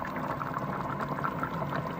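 Water pours in a steady, gurgling stream into a pot of lentils for a couple of seconds, close and moderately loud.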